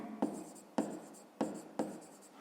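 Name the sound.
writing by hand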